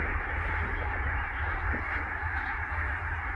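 A large flock of geese honks near a marina in Durgerdam, Netherlands, a dense, continuous chorus of overlapping calls close by.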